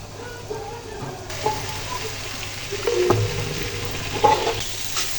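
Vegetables (radish and potato) fry steadily in a pan for a Bengali taki fish curry, with a constant low sizzle, occasional soft clinks and stirring noises, and no voices.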